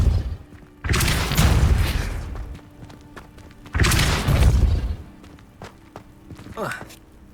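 In Hogwarts Legacy, a Depulso spell goes off twice as heavy whooshing blasts with a booming thump, each about two seconds long and loud, separated by quieter game ambience, with a short lighter magical flourish at the end.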